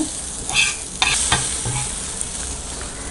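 Egg kalakki frying in a little oil while a spatula stirs and flips it: a close, loud sizzle with a few sharp scraping strokes in the first second and a half, then steady hissing.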